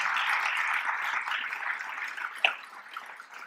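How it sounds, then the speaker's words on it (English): An audience at a county budget address applauds, a dense spread of clapping hands at moderate distance that holds steady then tapers, with one sharper clap near the end. "Can we give another round of applause for CJ?"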